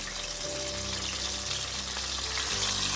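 Gluten-free chicken pieces fry in hot oil with a dense, continuous sizzle and crackle, close and steady, with a low hum underneath and no voice.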